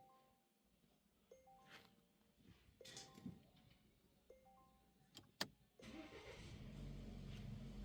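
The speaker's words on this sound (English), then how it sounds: "Let's start the car." A few chimes and clicks, then a 2021 Volvo car engine cranks and catches, settling into a steady idling rumble.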